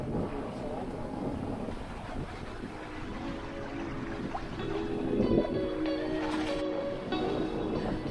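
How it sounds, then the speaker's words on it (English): A Catalina sailboat under sail in a good breeze, with steady wind and water rush around the hull, a constant moderate wash that swells slightly midway, with some creaking and tonal rigging sounds. "With a good breeze, we continued to sail while Paolo tweaked the sail trim"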